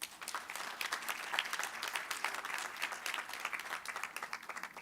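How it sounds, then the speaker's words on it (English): Audience applause at a board of education meeting, a steady wash of many hands clapping at moderate distance, continuous throughout with no talk over it. "Let's give her applause."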